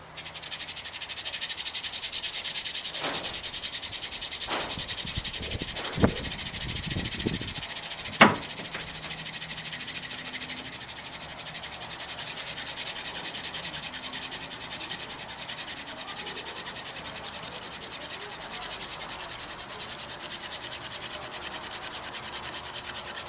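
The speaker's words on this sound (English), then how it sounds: "I'm gonna use the assisted hand drill" A steady, raspy rubbing and whirring of an assisted hand drill spinning wood against wood for friction fire goes on for a long stretch, with a few sharp knocks early on.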